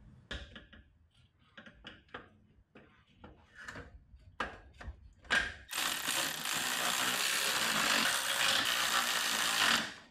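Clamp screws are ratcheted down onto the drive shaft of an off-road race mower with a chain drive. Close, irregular clicks come first, then a loud, steady broadband roar takes over for the rest.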